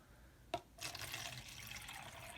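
After a brief knock, ice cold water pours steadily into a container, a close, continuous splashing stream that carries on to the end, with no talking.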